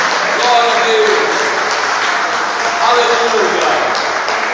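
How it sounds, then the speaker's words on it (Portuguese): A church congregation applauds during a Sunday morning service, a dense, even wash of clapping that holds for several seconds at a steady level, with a voice speaking over it. "Aplauda a palavra do Senhor nesta manhã para a igreja."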